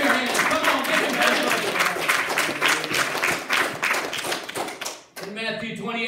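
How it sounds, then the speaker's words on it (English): A church congregation claps along during a sermon, with rhythmic, fairly loud hand claps and taps over a background of voices, breaking off abruptly near the end as a speaking voice takes over. "Clap your hands."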